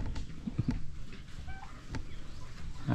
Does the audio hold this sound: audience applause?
no